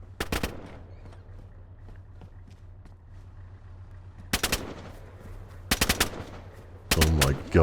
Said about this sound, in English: Okay, that might be a 249. Light machine gun.